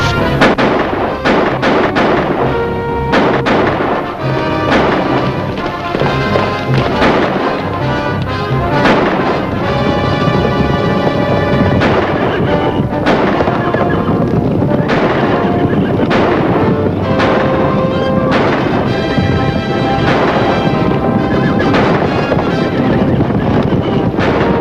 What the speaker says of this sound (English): Get around back of the herd and start shooting.